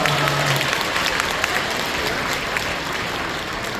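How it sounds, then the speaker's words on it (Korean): A church congregation applauds the young children during a Sunday service, a dense, loud wash of many hands clapping that fills the room and holds steady before easing slightly. "박수해 주시죠"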